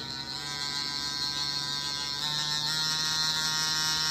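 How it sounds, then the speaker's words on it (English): A Javelin tattoo machine running at 12 volts with a steady, loud mechanical buzz that grows slightly louder and higher partway through, heard alone. "when you get to 12 volts, sounds monstrous"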